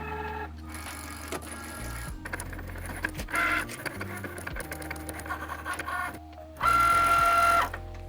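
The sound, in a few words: Cricut machine cutting magnet sheet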